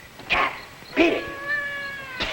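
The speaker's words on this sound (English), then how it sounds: "Some cat woke me up." A cat meows several times, with a short cry followed by a longer, drawn-out wail, fairly close and clear against a quiet background.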